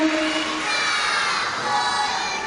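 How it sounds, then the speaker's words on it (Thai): Audience at a school performance by a child applauds and cheers in a steady, dense wash of clapping and voices, close and lively throughout. "ขอเสียงปรบมือ"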